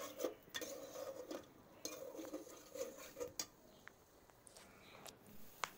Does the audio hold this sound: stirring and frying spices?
yes